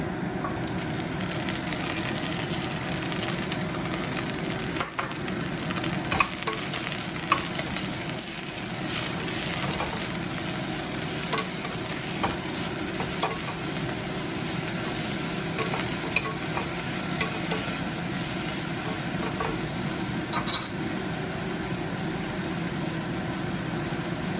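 Kale leaves hiss and sizzle in a hot frying pan for a lentil curry, with continuous close stirring and faint scraping throughout, no voices.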